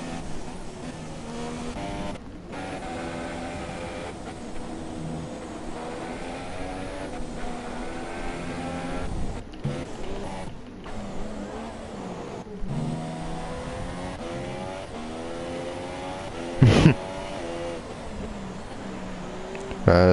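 F1 race cars lap the Brazil circuit in the F1 2017 video game, their engines whining through rising and falling gear pitches in a steady, moderately loud stream, with brief dropouts and a sharp burst near the end.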